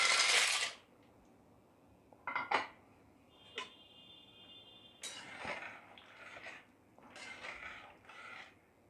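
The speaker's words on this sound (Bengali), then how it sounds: "এইবারে এর মধ্যে পাস্তাগুলোকে ঢেলে দেব।" Dry pasta clatters into a metal pot of boiling water on a high gas flame, giving several bright rattling pours and clinks between quiet pauses, close by, with no voices.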